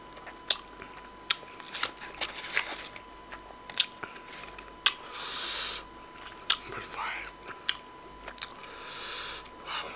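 Someone eats crunchy KFC fried chicken up close, with sharp crisp bites breaking through at irregular intervals between soft, moist chewing in a quiet room.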